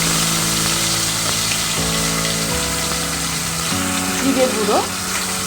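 Cumin seeds, ground cumin and ginger-green chili paste sizzle steadily in a hot pan while someone talks over the frying and stirs now and then.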